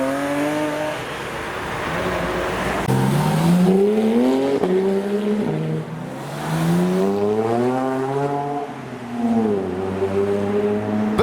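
Porsche 997 GT3 RS departing a car meet, its engine revving up through rising and falling pitch sweeps with gear-change dips, loud and close, no talking.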